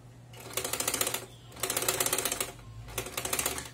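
A sewing machine stitching patchwork runs in three rapid, rhythmic bursts of mechanical clatter, with short pauses between them and a low motor hum underneath.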